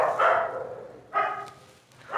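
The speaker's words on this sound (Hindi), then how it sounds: "कोई भगाओ रहे इनको, कुत्तों को" Dogs bark nearby, three loud barks spaced about a second apart with quiet gaps between them.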